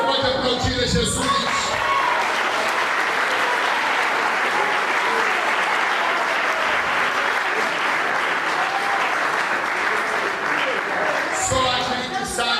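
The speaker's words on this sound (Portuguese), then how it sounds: "Você pode aplaudir a Jesus." A church congregation applauds Jesus in a sustained, loud burst of clapping with cheers and whoops, close and dense throughout, with voices at the start and end.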